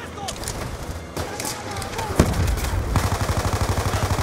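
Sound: gunfire in the video game Call of Duty Black Ops 2

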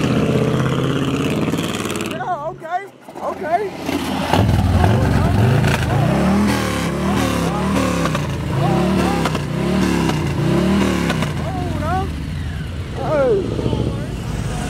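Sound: loud truck engine revving at truck meet

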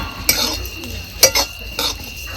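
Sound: stirring and dry-roasting sukat dried fish in a pan

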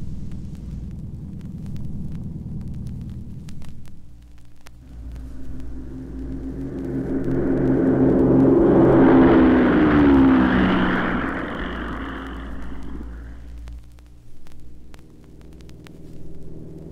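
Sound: Cessna airplane taking off from Santa Monica

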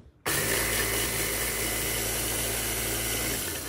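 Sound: blender grinding flax seeds into flour

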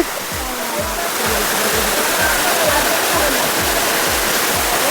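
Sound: Dharagiri waterfall, water falling over rocks, Ghatshila

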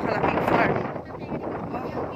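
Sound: strong wind on microphone

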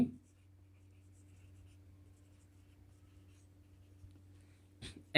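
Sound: writing out a math solution

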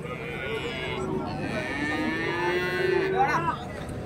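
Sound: cattle mooing at a livestock market

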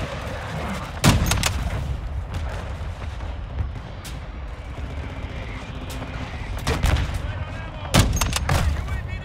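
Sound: mortar strike explosions in the video game Call of Duty Modern Warfare 2

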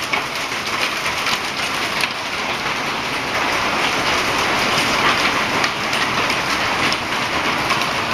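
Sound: heavy rain

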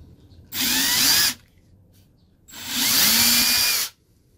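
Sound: drilling out a bolt hole with a smaller drill bit

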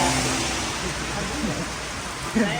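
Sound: rain falling

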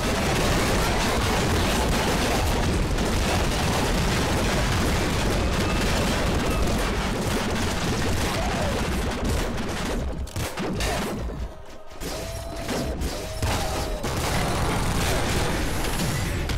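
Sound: super plasma cannon shots in Nuclear Throne video game

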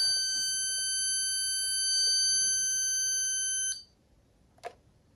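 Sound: Insteon Hub beeping during reset

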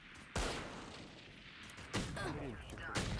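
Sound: gunfire in the video game Valorant

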